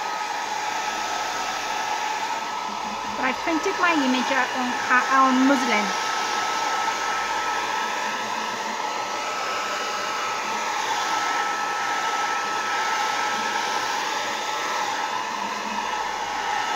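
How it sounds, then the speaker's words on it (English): A hair dryer blows with a steady, loud whooshing roar throughout, and a voice speaks briefly over it. "Sometimes I use a hairdryer."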